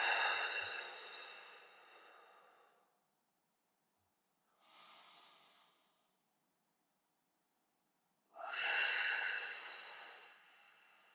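Slow, deep breathing during a spinal mobility stretch: three separate airy breaths, a long one, a short softer one and a loud final exhale, divided by silent pauses.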